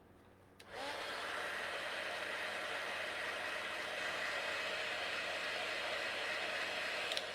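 A hair dryer switches on after a brief pause and blows steadily at close range, a loud continuous airy whoosh drying Autumn Sage chalk-style paint from Paint Couture on a green and white pumpkin printable craft.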